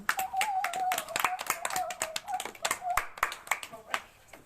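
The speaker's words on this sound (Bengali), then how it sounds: "সবাই নীলাশার জন্য জোরে হাততালি দাও" A class of children at a drawing lesson claps hands in quick, dense bursts of applause for a classmate, sharp slaps overlapping for several seconds before thinning out, with a sustained tone running beneath.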